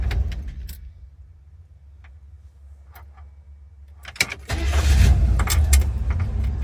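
A 1964 Buick LeSabre engine cranks briefly and then catches. It settles into a loud, steady idle after a quiet stretch with a few faint clicks, heard up close with no talking.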